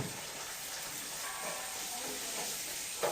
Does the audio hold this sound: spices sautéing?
yes